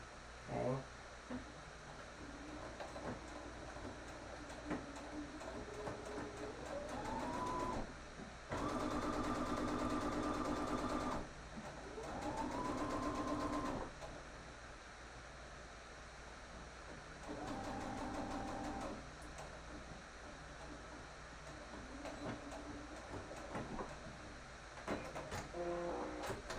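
A sewing machine stitching down the side of a 3D fabric face mask, running in several short whirring bursts of a few seconds each, quiet between runs, with a voice talking at times.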